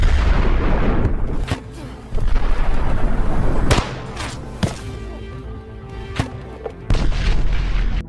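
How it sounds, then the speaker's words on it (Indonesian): Loud gunshots in a shootout, sharp isolated cracks and booms spaced irregularly, some echoing, with rumbling between bursts. "Sehingga baku tembak, kembali terjadi."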